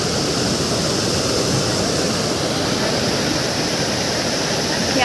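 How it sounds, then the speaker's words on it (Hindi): Water from a musical fountain crashing down forcefully, a loud, steady broadband roar of falling spray that holds constant throughout with no pauses. "तो आपको लग रहा है कि पानी इतना तेज से आके गिर रहा है?"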